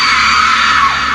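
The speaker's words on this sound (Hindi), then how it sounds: "डाइन की आत्मा एक भयानक चीख के साथ" A witch's spirit lets out a loud, sustained scream in a horror story, one shrill unbroken shriek that fills the whole moment with no talk over it.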